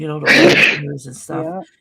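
A single sharp human sneeze bursting out mid-conversation, close and loud, with people talking just before and after.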